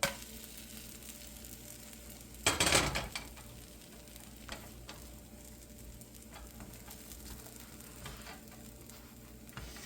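A plant-based bacon crepe sizzles steadily in a pan, a soft continuous fry with a brief louder burst of crackle early on and faint ticks scattered through.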